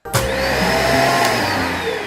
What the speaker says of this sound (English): did it make a vacuum sound every time it did that?